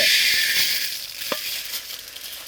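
Pearl millet dry-roasting in a kadai while being stirred, a dense, continuous hiss and rustle of grains with a light scrape of the spoon, close and fairly loud, no talk.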